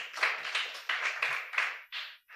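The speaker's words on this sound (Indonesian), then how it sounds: "Ya tepuk tanganlah untuk Tuhan." A small audience claps for God, with about ten separate sharp claps in a loose, uneven rhythm. The claps are spaced apart and fade off toward the end.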